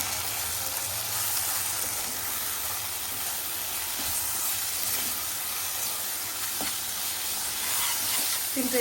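Masala and ginger-garlic paste fry on a low flame for a kushka biriyani, giving a steady, soft, hissing sizzle up close with faint scrapes of stirring and no voices.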